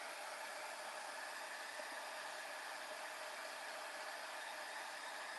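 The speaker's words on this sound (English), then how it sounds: "we're going to heat emboss this" A heat gun blows a steady, even roar of hot air while heat embossing gold powder on a wedding card, a constant broadband whoosh that holds unchanged throughout with no talking.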